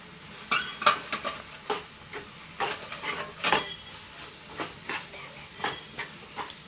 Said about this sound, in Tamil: இதை நல்லா கிண்டிகிட்டே இருக்கணும்.